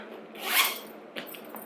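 A vintage designer clutch handbag being zipped closed, a quick rising zip sweep up close followed by a shorter tug and a couple of faint clicks of the pull.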